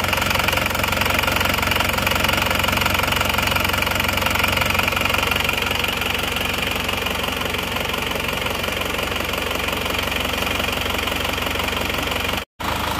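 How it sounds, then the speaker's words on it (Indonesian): An Isuzu Panther's diesel engine, still cold and just started, idles steadily and loudly up close with a constant knocking clatter and no pauses. "Oke, ini mesinnya sudah hidup."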